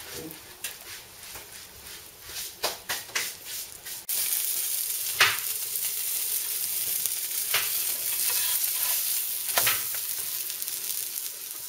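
A Chinese scallion pancake fries in a hot oiled skillet with a steady sizzle, broken by a few sharp clatters and scrapes early on.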